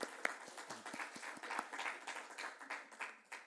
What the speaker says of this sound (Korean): 박수. 예, 박수.